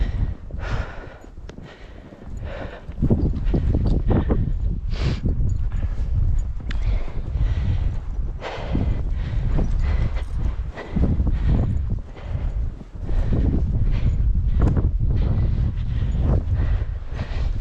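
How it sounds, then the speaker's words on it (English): A horse walking through snow in a mountain blizzard, a steady rhythm of soft, muffled hoof thuds close by, with wind noise and no talking. "Bring me my horse."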